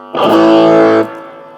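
A single strummed guitar chord through a Carl Martin overdrive distortion pedal, gritty and sustained for about a second before cutting off and leaving a faint buzzing tail.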